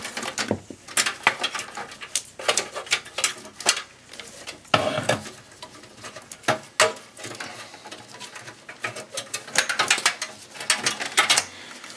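Power supply being released and slid out of a Dell Optiplex 390 desktop computer, with a dense run of sharp plastic and metal clicks, latch snaps and scraping rattles, close and fairly loud, no talking.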